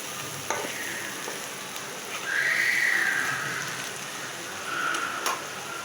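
Gourd and egg fry in a pan with a steady sizzle and hiss, swelling in the middle and again near the end, with a faint whistling tone on top. Nobody speaks.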